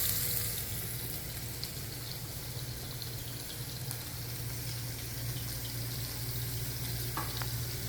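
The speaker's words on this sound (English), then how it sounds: "Oh man, listen to that fry noise." Steady loud sizzling and crackling of burger patties frying in oil in a hot pan, continuous with a low hum underneath.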